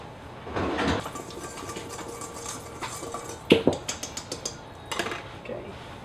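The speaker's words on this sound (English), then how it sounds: "I'm going to whisk this together really quick." A whisk clicks briskly against a bowl while sugar and other breakfast ingredients are stirred together, a quick run of light metallic taps after some softer kitchen clatter, fairly faint.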